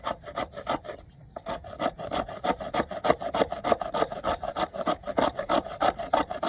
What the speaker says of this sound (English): let's test the back of the knife just to see what kind of shavings we can get